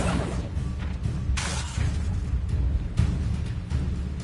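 Accio summoning spell cast in Hogwarts Legacy, a few whooshing pulls and soft bursts over a low rumbling bed, loud and close, no voices.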